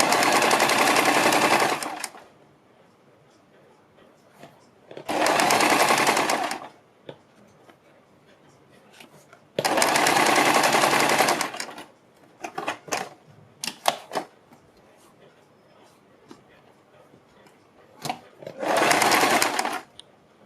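A sewing machine stitches along a fold in fabric, running in four loud bursts of a couple of seconds each, separated by pauses filled with small clicks and handling sounds.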